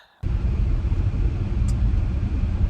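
Volvo XC90 T8 Recharge plug-in hybrid SUV on the move, a steady low road rumble and engine drone heard from inside the cabin, starting abruptly after a brief silence and holding an even level throughout.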